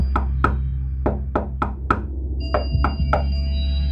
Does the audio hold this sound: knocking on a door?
yes